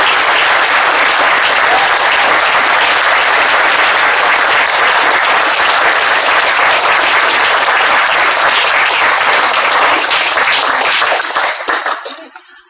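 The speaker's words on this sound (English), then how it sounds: "Let's give him a round of applause." Audience applause welcoming Dave Brat: sustained, dense clapping from a crowd, loud and steady throughout before fading out near the end.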